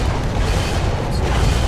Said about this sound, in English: we're just sailing into a massive broadside, a massive amount of firepower from the enemy team here